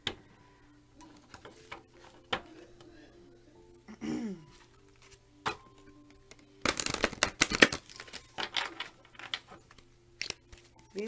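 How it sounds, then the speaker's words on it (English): Large tarot cards handled and pulled from the deck rather than shuffled, giving sparse close ticks, soft slides and a louder burst of rustling and flicking midway, over a quiet background. "These ones are kind of hard for me to do my regular shuffle, so I'm just going to pull."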